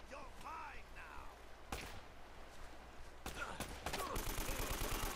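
Rapid AK rifle bursts from the video game Uncharted: Drake's Fortune, sharp loud gunfire coming in several clusters with brief gaps, thickening into continuous automatic fire toward the end, over steady game background noise.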